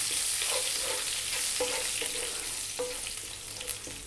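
Cumin seeds, dried red chili and fresh curry leaves sizzling in hot oil for an Indian tilapia fish curry, a loud continuous crackling fry with small pops and stirring clinks throughout.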